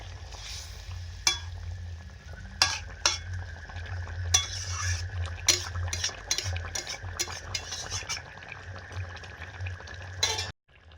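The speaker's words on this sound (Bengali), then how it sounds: "ঝোল ফুটে যাওয়ার পরে মাছটা দিয়ে দিলাম।" Fish added to a boiling curry broth of potato and pointed gourd, giving a steady simmering sizzle with repeated clinks and scrapes of a utensil against the pot, close and moderately loud, with no voices.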